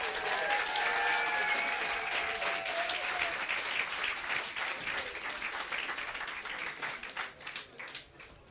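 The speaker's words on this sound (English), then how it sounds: "I think that alone is really worth a round of applause for all those crews who got to." A crowd at a men's rowing boat race prize-giving claps for the crews, sustained applause with a whistle or two early on, gradually thinning into scattered claps toward the end.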